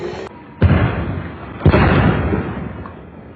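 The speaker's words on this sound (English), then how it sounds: "They're called shock bangs for a reason, right?" Stun grenades go off in news footage of a street confrontation, two sharp loud blasts about a second apart, each followed by a rumbling decay over a noisy crowd background.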